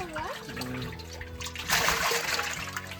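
Water trickling and splashing as it is poured out in a Bengali village setting, a steady liquid stream with a louder splash partway through, under a busy background with some voices.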